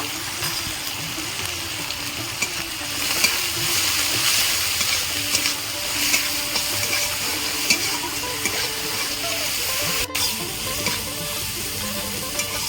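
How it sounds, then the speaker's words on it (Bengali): Prawns seasoned with salt and turmeric fry in hot oil, sizzling and bubbling steadily up close with frequent stirring scrapes and light clicks, one sharp knock near the end. "ওই তেলের মধ্যে আমি চিংড়ি মাছগুলো ভেজে নেব"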